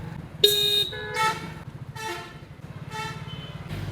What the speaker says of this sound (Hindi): कितने हॉर्न बज रहे हैं भाई आजू बाजू